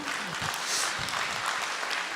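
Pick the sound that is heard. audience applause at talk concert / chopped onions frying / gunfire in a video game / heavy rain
audience applause at talk concert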